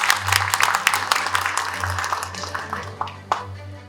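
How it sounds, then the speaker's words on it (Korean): An audience at a talk concert hosted by the Economic, Social and Labor Council claps, with scattered individual claps over a low hum, fairly moderate and thinning toward the end. "큰 박수 한번 더 부탁드리겠습니다"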